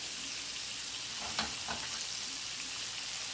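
Onion, scallion and thyme fry gently over low heat in a pan, giving a steady soft sizzle with a couple of faint stirring clicks.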